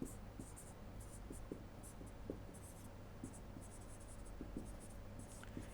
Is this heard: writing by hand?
yes